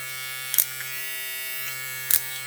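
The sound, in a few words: StyleCraft Rival/Reign hair clipper motor running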